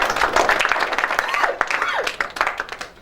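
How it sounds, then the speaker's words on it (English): Audience applause at a tech-day member event, a dense wash of clapping that stays loud throughout, with voices talking over it. "Please give a big round of applause to them."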